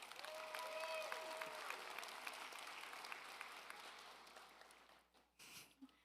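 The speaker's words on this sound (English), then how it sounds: "Give them a round of applause." Graduation audience applauds at a high school ceremony, steady crowd clapping that gradually thins and fades toward the end, with a faint murmur and a brief noise near the close.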